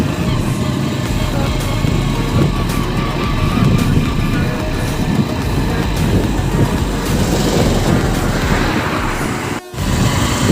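A motorbike rides through rain during floods in Assam, its engine a loud continuous drone mixed with rain and wind noise, steady throughout apart from a brief dropout near the end.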